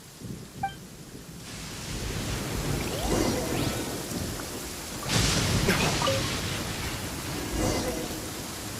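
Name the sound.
thunderstorm with rain and thunder in the video game Genshin Impact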